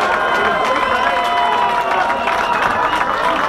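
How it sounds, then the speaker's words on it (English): Crowd noise after a fight between Craig Berry and Pete Colligan, a loud dense wash of cheering and applause that continues without a break, close and full. "Big round of applause for both of them."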